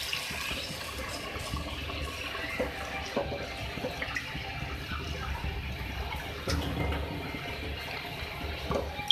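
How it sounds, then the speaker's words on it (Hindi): Water pours into a cooking pan holding potatoes and tomatoes for a spiced potato curry, a steady, close splashing and gurgling wash that runs for several seconds with no talk over it. "इसके बाद इसमें मैं आलू बनाने के लिए पानी ऐड करूँगी।"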